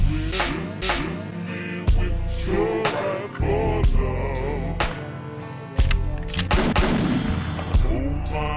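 Loud gunshots in the video game Fallen Aces, a rapid run of sharp blasts at irregular intervals, some in quick clusters, close and dominant with no talk.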